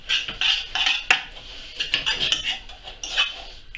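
Chopped coriander being stirred through a sea bream dish with a utensil, giving a run of close scraping, rubbing and clinking strokes against the pan or bowl, irregular and fairly loud, with no talk.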